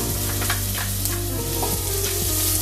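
Celery and parsnip with ground black pepper sautéing in a pot, a dense close sizzle with stirring clatter throughout, no voices.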